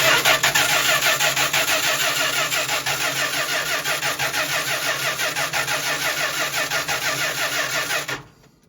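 The engine of a 1977 Winnebago motorhome cranks on the starter with the ignition disconnected for a compression test, a loud, rapid, rhythmic churning that runs steadily for about eight seconds and then stops abruptly.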